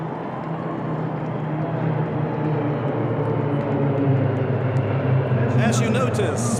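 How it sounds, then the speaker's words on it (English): CASA military transport aircraft flying over in formation during an air display at a presidential inauguration, a steady loud broad engine drone throughout, with brief crowd or announcer sounds near the end. "CASA formation."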